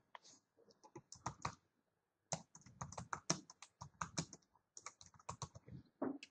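Fingers type text on a computer keyboard in quick clustered bursts of close, crisp key clicks, separated by a short pause, with no talking.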